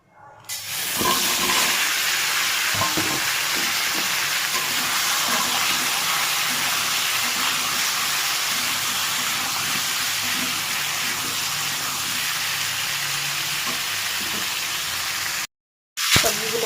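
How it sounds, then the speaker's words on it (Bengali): Chopped vegetables fry in hot oil seasoned with panch phoron and black cumin, a loud continuous sizzle and hiss with occasional scraping stirs, cut off briefly near the end. "এখানে আমার কেটে রাখা সবজিগুলো রয়েছে এগুলো দিয়ে ভালো করে ভেজে নেবো"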